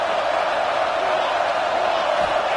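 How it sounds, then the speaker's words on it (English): A football stadium crowd at a Nebraska vs UCLA game roars loudly during a late-game timeout. The dense, steady wall of cheering noise holds without a break. "This crowd knows when to bring it."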